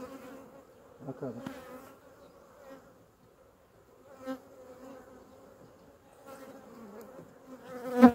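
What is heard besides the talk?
honeybees buzzing around a beehive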